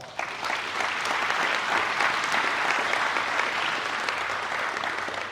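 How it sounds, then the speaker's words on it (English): Sustained applause from an awards ceremony audience, dense and steady clapping filling the room for several seconds, with no voices standing out. "Give him a round of applause."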